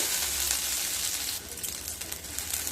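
Onion and capsicum pieces lightly frying in a pan over medium-low heat, a steady soft sizzle with faint crackles and occasional stirring, close and continuous with no one talking.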